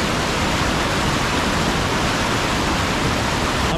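Whitewater rapids on the Green River Narrows on race day, with kayakers on the river. The rushing water makes a loud, steady, unbroken roar that fills the whole clip, and no voices are heard.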